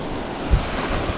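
Gusting wind over open water buffets the microphone during fly casting, a dull continuous rumble with one brief low thump partway through.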